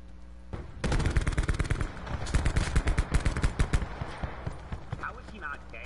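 Rapid automatic gunfire in a console video game fight at a turret, a dense rattling burst lasting several seconds with a player talking over it.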